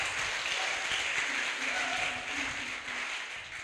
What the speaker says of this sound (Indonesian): Kurang kuat tepuk tangannya kakak.